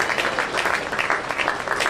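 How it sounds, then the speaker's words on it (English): Audience applause at a county fair swine show, a steady wash of clapping from a crowd that holds at an even level for the whole stretch, with no voices over it. "Let's give them a round of applause because I think they just did a phenomenal job."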